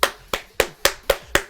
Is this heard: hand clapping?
yes